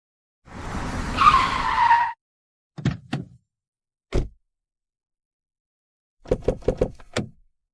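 A car with failed brakes skids hard, tires shrieking for about a second and a half, followed by several sharp knocks and clattering impacts spaced out after the slide.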